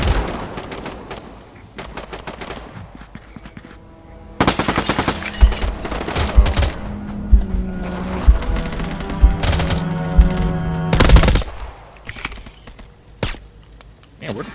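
Gunfire from the VR shooter Contractors, including a Glock 18C, cracks in loud, sharp bursts, with a rapid automatic stretch in the middle and scattered single shots around it, while players talk over the action.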